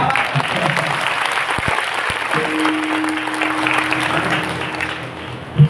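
An audience at a kirtan gives continuous applause, a broad steady wash of clapping that stays even throughout, with faint voices and a short tone mixed in.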